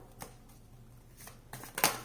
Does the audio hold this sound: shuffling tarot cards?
yes